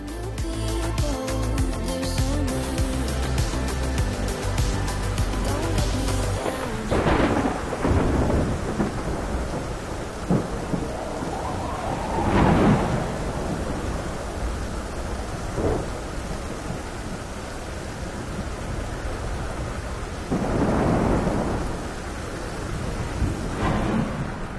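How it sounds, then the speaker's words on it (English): A thunderstorm with rain at Ludington State Park near sunset: continuous rain hiss under long rolling rumbles of thunder, one heavy roll at the start and further booms through the middle, with no voices. "Storms moved in near sunset, so we broke out the stakes and guy lines to prepare for the worst."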